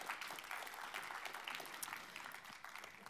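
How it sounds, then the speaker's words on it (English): Audience applause fills an award ceremony hall, a dense, steady clatter of many hands clapping that holds at even strength throughout, with no speech over it. "Okay, very big round of applause."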